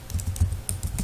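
Keys clatter on a computer keyboard in a quick, close burst of soft irregular taps while code is typed.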